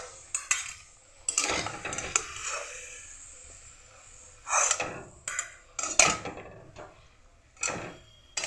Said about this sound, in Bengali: এবার এগুলো আমি তুলে নেব